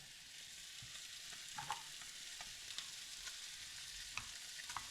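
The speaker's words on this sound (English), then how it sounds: "So now I'm going to throw the shallots in" Shallots sizzling in a pan alongside fish, a steady hiss of frying with occasional light pops and stirring clicks, close and continuous with no voices.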